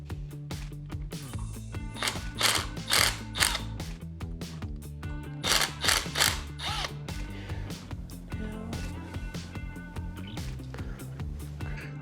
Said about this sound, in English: So now we just need to loosen these two bolts